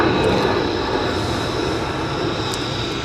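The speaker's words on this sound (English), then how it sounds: "that's as an F-35 is taxiing back" An F-35 fighter jet taxiing about 157 yards away gives off a steady, broad jet-engine roar with a high whine on top, continuous and moderately loud with no talk.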